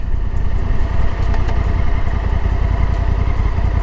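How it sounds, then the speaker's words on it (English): A 2024 Honda Africa Twin motorcycle ridden through a park, its engine a loud, steady throbbing rumble heard close up throughout, with no talking. "And so now I'm riding my dad's bike"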